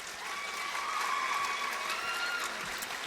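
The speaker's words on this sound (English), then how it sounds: "I think that deserves a round of applause." Audience applause at a pageant, a short burst of steady clapping from a crowd, moderately loud and even throughout.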